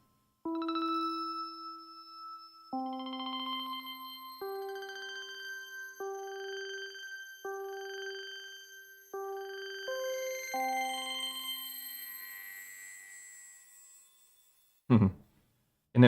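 Beads eurorack granular module producing crazy, bell-like tones, clear chiming notes stepping through a melody over sixteen seconds, shimmering and fading into a high wash before two short loud bursts at the end, no talking.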